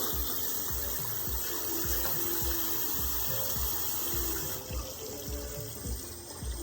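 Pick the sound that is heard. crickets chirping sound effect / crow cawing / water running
water running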